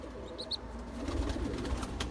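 A fantail pigeon in a wooden breeding box gives a soft, low cooing murmur close by, with a couple of brief higher chirps near the start over steady background noise.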